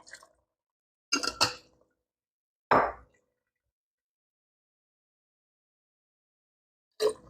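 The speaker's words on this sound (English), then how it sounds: "I'm going to go ahead and pour, just a little bit of water in these jars" Water is poured in a few short bursts into jars while making green chili stew, each splash brief and close, separated by silent pauses.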